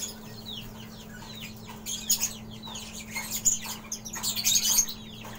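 Young birds chirping, blue-bred chicks in a bird-keeping setup, with thin repeated peeps that grow busier and louder over a steady low hum.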